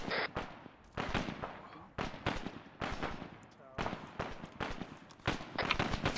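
Gunfire in the Arma 3 video game during a counterinsurgency firefight: repeated sharp shots in irregular bursts, some close and some distant, mixed with voices talking over the exchange.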